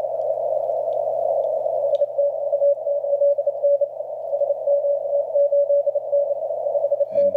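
A steady Morse code tone on the 40-metre amateur radio band keys on and off in rapid dots and dashes, continuous throughout, with a faint low hum beneath.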